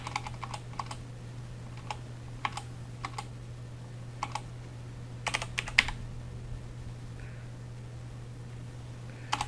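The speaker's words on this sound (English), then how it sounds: "type in the word Reallusion" Light keystrokes tap on a computer keyboard in short, scattered bursts over a quiet background hum, with pauses between groups of presses.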